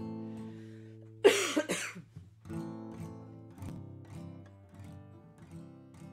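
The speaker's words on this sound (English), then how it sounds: "I'm sorry about all the coughing." A sudden burst of two harsh coughs rings out close by over soft sustained music, which then continues on its own.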